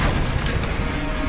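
A Confringo blasting spell explodes in a video game as a dense, continuous boom with a heavy low rumble, steady and loud for the whole moment with no talk.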